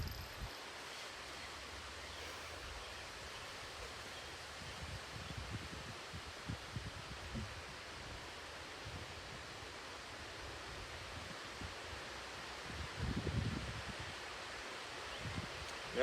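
Wind blowing outdoors on a shooting range, a steady broad rushing noise that swells slightly toward the end, with no voices.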